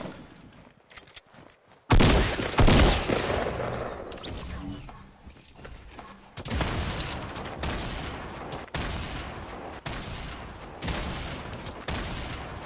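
Fortnite gunfire: quiet scattered noises give way to a sudden loud burst of shots, then repeated volleys keep coming at a moderate distance, with voices talking now and then.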